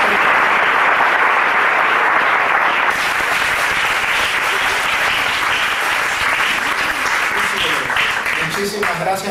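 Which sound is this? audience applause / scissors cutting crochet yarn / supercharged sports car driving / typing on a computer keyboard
audience applause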